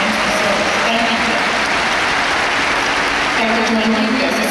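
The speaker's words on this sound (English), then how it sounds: "we want to give him a round of applause now for his last community service" A graduation ceremony audience gives sustained applause honoring a man's community service, dense steady clapping filling the hall at even loudness throughout, with faint voices mixed into the crowd.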